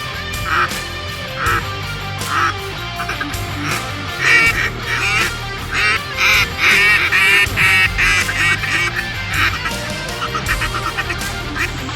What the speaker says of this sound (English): All with duck calls, deer calls, turkey calls, goose calls.